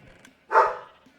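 Dogs bark in a short burst, a single loud close yelp-like bark standing out against quiet indoor background.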